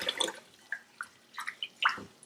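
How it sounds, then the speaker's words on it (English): Sushi rice is washed in a bowl of water, making a series of close, separate drips, splashes and small sloshes with short quiet gaps between them. "We're washing the sushi rice to get rid of all of the starch."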